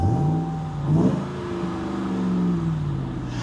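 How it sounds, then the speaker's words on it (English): Close, loud revving from a Ram 1500 TRX pickup's engine, a throaty blip that rises and falls, then settles into a rumbling idle with lighter swells. "And you can hear that amazing, amazing sound."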